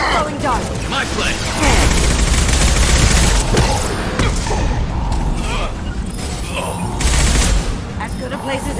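Mass Effect 2 combat with squad gunfire, a dense fusillade of shots, mechanical clatter and booming impacts. The din is loud and near throughout, with voices breaking in over the shooting.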